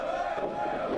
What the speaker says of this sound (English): the crowd has started your favorite soccer chants, Chris. Ole, ole, ole